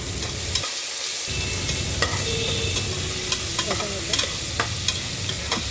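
Crushed ginger sautéing in a pan for a chicken kurma, with a constant close sizzle and repeated sharp scrapes and taps of a spoon stirring against the pan, and no voices.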